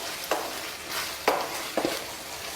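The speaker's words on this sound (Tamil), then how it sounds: "மசாலா சேர்த்து மிக்ஸ் பண்ணிவிடுங்க" A spoon scrapes and stirs through thick masala in a pan, with soft sizzling underneath and several distinct strokes close by.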